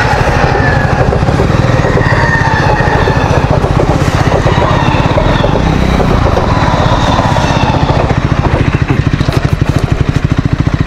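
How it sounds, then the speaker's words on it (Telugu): A Triumph Scrambler 400 XC motorcycle rides along a road, its single-cylinder engine thumping loudly and steadily with heavy wind rush throughout. "Just loving this bike ride."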